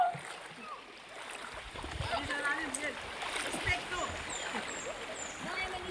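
Lipit River water flowing and splashing outdoors, a steady broadband rush running under the whole stretch while people talk over it.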